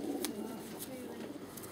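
A racing pigeon hen, a grizzle, coos softly and repeatedly somewhere in a loft, faint and partly buried under steady broadband background noise.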